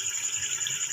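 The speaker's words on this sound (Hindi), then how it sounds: "अब हम इसके बाद डालेंगे पानी।" Water pours in a steady, close gushing stream into a pot of rice for aloo matar pulao, a short continuous splash with no talking.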